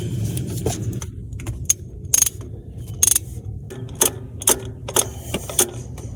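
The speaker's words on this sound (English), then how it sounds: "Ratchet tighten them." Hand ratchet tightening the starter motor bolts on a 2016 Toyota Camry, heard as a series of sharp metallic clicks and clacks in short bursts over a low hum, with no talking.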